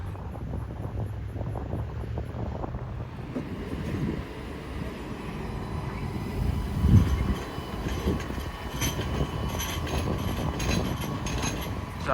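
A tram rolls along rails near a depot, giving a steady mid-level rumble and wheel noise with some wind buffeting the microphone and a louder grinding swell partway through. No one speaks.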